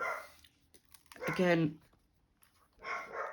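A dog barks in the background at a bird seen in a garden, a short burst of several yips and barks mixed with nearby speech before and after.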